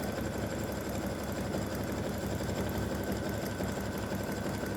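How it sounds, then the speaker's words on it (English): An embroidery sewing machine runs a very small satin stitch along an edge, producing a fast, even mechanical whirring and needle chatter that stays constant and close without any talking. "it's doing a satin stitch along, a very small satin stitch along the edge, just to help give it some definition."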